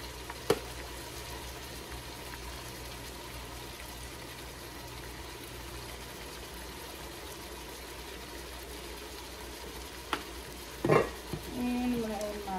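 Spanish paprika going into a pot of Mexican beef stew (caldo de res) over steady, even sizzling, with a few clunks and stirring scrapes near the end.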